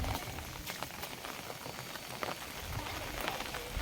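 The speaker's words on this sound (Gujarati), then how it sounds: "વરસાદ" Steady heavy rain pours down on surfaces outdoors around waterlogged farm fields, a dense continuous hiss with scattered louder drops and splashes, no voices.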